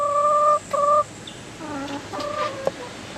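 Chickens cluck close by in short tonal bursts, a few calls in quick succession with brief gaps, and no talking.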